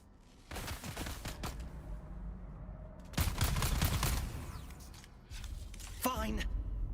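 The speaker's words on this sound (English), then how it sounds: "Somebody's just up here shooting at me" Gunfire in the video game Dune: Awakening comes in several rapid bursts of shots, near and sharp, separated by short pauses and mixed with other game effects.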